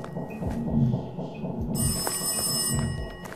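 A telephone rings in the GZDoom-based horror game Total Chaos, its bright electronic trill cutting in halfway through and continuing steadily over low rumbling ambient game music.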